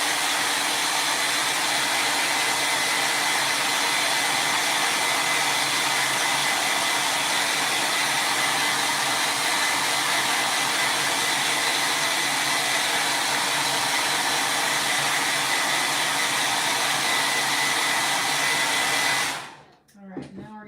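A hair dryer blows on wet paint on a holiday wreath, a loud, steady close whoosh running continuously before it is switched off and cuts out near the end.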